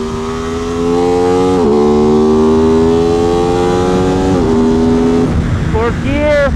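Aprilia RS660 sport motorcycle engine on a race track, droning loud and steady through the gears with two brief dips at shifts, then a rising rev near the end, with a rider talking over it.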